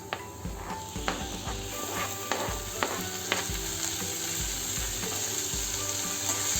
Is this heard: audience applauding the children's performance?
no